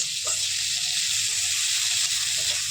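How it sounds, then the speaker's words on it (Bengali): Steady, dense sizzling of onions frying in hot oil until brown for a rohu fish curry, with a few faint stirring scrapes over the continuous crackle. "এরপর আমি দিয়ে দেবো পেঁয়াজ পেঁয়াজটাকে আমি ভালোভাবে ভেজে নেব বাদামি কালার করে"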